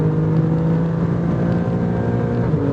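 A 2024 Alfa Romeo Stelvio Quadrifoglio snarls on a race track, its exhaust a loud, steady drone held close and alone, with no break or shift audible.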